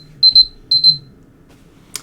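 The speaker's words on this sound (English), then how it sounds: "That was my alarm to tell me to take my puppy out." A phone alarm rings close and clear, two quick bursts of bright repeated beeps about half a second apart, followed by a faint click.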